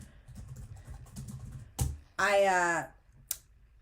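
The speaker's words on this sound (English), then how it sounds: "I'm writing my question in ChatGPT" Typing on a computer keyboard to enter a question into ChatGPT, soft quiet keystrokes scattered through the stretch, with a voice breaking in briefly partway through.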